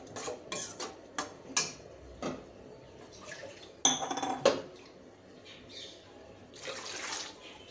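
Washed yellow moong dal is mixed in a pot, with a run of sharp spoon-on-metal clinks and scrapes and some wet sloshing, close and intermittent, no voices.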